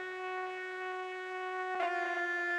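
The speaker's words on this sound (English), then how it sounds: "That's the distortion brought in by the radio" A drum-machine beat run through radio processing, its steady tonal layers taking on a raspy, gritty distortion that thickens near the end with a brief burst of crunch.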